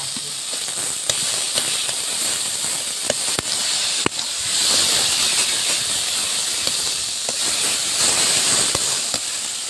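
Greens, beans, brinjal and other vegetables frying in oil with garlic, onion and green chilli give off a steady loud sizzling hiss, with scattered crackles and pops throughout.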